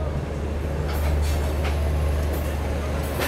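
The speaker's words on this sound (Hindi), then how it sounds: "यहाँ पे फाइनली अपनी गरीब रथ एक्सप्रेस ने ले लिया डिपार्चर अपना हजरत निज़ामुद्दीन रेलवे स्टेशन से" The Garib Rath Express, a Chennai-bound train, departing Hazrat Nizamuddin railway station, heard from on board as a steady loud rumble of wheels and carriages with a deep low hum and faint intermittent rattles.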